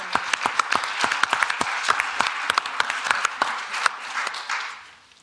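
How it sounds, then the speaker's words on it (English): An audience at a tuberculosis meeting claps in thanks, a moderate crowd with sharp individual claps standing out over the steady patter, fading out near the end. "I want to take a moment here for all of us to clap, to thank especially civil society and community"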